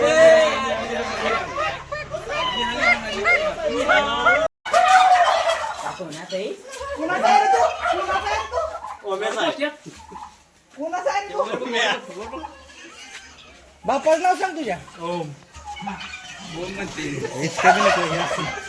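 Chickens and ducks at a college poultry farm cluck, chatter and squawk nearby, their calls mixed in and out under people talking loudly throughout.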